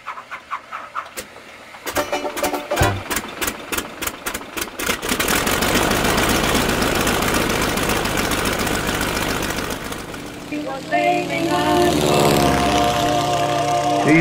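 Vintage Hispano-Suiza aircraft engine, a First World War era design, fitted in a classic boat at a lake boat show, starting with sharp irregular firing bursts, then settling into a loud, steady roar with a shift in tone near the end.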